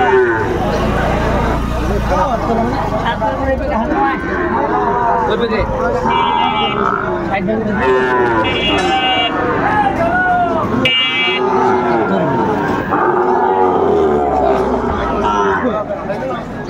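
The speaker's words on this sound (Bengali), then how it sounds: "শাহিওয়ালা জাতের ষাঁড় বাচ্চা আমরা দেখছিলাম।" A Sahiwal bull calf moos several times at a busy cattle market in Madaripur, its calls rising over continuous close talk and general crowd noise.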